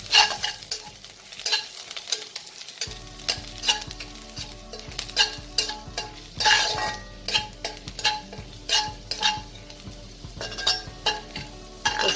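Finely chopped garlic frying in oil with cumin seeds for quinoa pulao, a lively sizzle broken by rhythmic scraping and clinking of a spoon stirring in the pan, close up.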